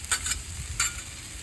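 Chicken stir fry on a Blackstone griddle sizzles in oil, a short close hiss with two brief bright bursts as the pieces are tossed and spread.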